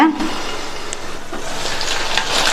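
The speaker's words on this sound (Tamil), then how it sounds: "இந்த கத்திரிக்காய் எண்ணெயிலேயே நல்லா சாஃப்ட் ஆகிற வரையும் வதங்கட்டும்" Brinjal softens in oil in a covered pan, giving a continuous close, moderate sizzle and crackle with a few faint clinks, and no speech.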